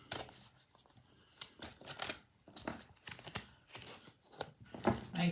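Tarot reading cards being shuffled in a quiet room, a string of soft riffling, flicking and slapping bursts in an uneven rhythm, close and fairly faint.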